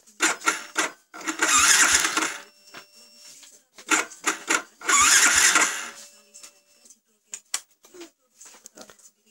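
A Yamaha Vixion motorcycle with a dead spark plug is cranked twice in long bursts that fail to catch, with short clicks and mechanical taps in between.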